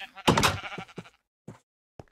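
A sheep bleats in a Minecraft-style block video game, one clear bleat followed by a few shorter, fainter ones, with a person talking around them.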